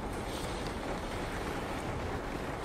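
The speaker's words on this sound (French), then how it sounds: "on dirait que le vent souffle de tous les côtés à la fois" Wind from an approaching typhoon howls as a steady, broad rushing roar, a dense sound effect that stays constant and fairly soft throughout, with no voice.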